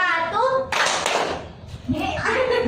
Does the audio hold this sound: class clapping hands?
yes